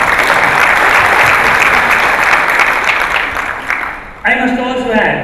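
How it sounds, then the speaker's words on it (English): Loud, dense applause from the audience at a 2012 global regulators' symposium in Sri Lanka, steady for about four seconds and then fading as a voice begins speaking over the final moments. "I think you deserve an applause from me."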